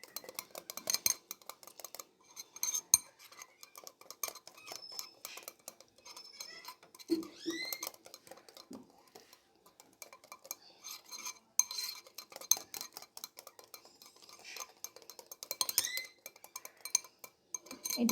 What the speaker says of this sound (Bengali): ভালো করে আমি ফেটিয়ে নিচ্ছি, দিয়ে মিশিয়ে নিচ্ছি ডিমটার সঙ্গে